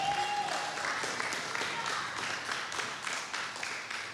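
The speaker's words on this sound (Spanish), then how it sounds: "Esté de pie en esta mañana y denle un aplauso al Señor." A church congregation stands and applauds during a Sunday morning sermon, a steady wash of many hands clapping together from start to end, with a brief sustained tone near the start.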